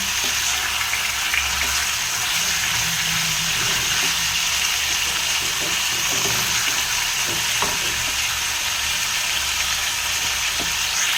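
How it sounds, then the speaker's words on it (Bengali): Meat fries with salt in a pan, giving a steady loud sizzle and crackle from start to finish, close up and with no talk. "এ দেখো আমি মাংসটাকে নুন দিয়ে আগে হালকা ফ্রাই করে নেব।"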